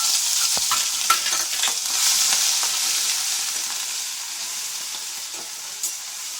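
Ginger-garlic paste frying in hot ghee with asafoetida, bay leaf and cloves for a cashew curry, a loud, continuous close-up sizzle with occasional stirring scrapes, no talking.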